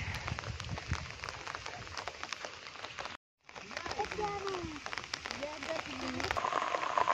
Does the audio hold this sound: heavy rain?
yes